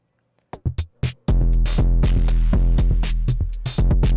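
An Arturia Drumbrute Impact drum machine runs a busy pattern without its kick through a mono output, a few sparse hits giving way to a dense, driving groove of snares, toms and hats.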